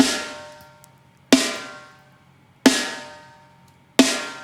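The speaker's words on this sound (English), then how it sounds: "Love that snare sound." A mixed modern metal snare drum rings out in four hard, evenly spaced hits about 1.3 seconds apart, each with a bright crack and a fast decaying tail, played back loud and alone.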